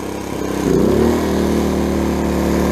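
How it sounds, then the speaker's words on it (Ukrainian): Fogo F4001i inverter generator running under a heater load, a steady near engine drone that rises and settles into a constant hum after about half a second, with no talk. "Ставили вилку в розетку і запускаємо перший генератор. Навантажуємо генератор дуєчкою."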